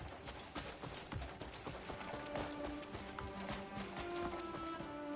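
Horse hooves clip-clop steadily in the Crimson Desert video game, a continuous galloping rhythm set under a dense, busy layer of game music and ambience.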